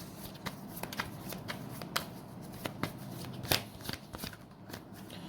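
Tarot cards shuffled by hand in a series of quick riffling bursts and soft slaps at close range, with no one talking.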